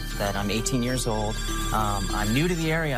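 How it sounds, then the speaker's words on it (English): A prepaid phone rings steadily beneath a continuous stream of close, clear speech in a talk-show studio, the ring's tones sitting faintly behind the voice throughout. "now the phone is ringing right now because of just this ad"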